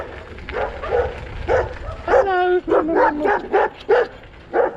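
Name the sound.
dogs barking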